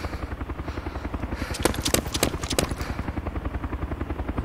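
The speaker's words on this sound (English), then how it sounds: "Guy with a helicopter. I wonder if it's a two-seater." Helicopter, actually a gyrocopter, in the DayZ mod video game: steady rhythmic rotor thumping at a fast regular beat, fairly close, with a brief louder cluster of blade slaps in the middle.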